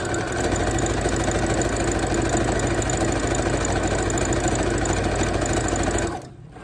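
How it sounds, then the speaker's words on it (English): A sewing machine runs steadily, stitching one straight seam down a ruffle sock without a pause for about six seconds, loud and close, then stops abruptly. "you're literally just sewing a straight line all the way down."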